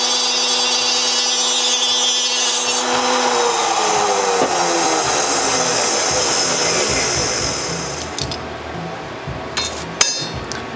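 Loud, close machining whine of a tool cutting the last tab off a knife handle part, with pitch sweeping down as the cut finishes, followed by light metallic clinks.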